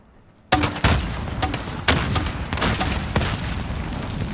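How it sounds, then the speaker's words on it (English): An MGL-32 grenade launcher fires in the video game Warzone: after a quiet start, several sharp booming shots and blasts come in quick succession, loud and close, with lingering rumble between them. "It's the first time I try and use the grenade launcher."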